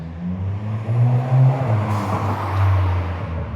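A car goes by at close range, its engine giving a steady low rumble that rises a little and then falls away over a few seconds, with no talk.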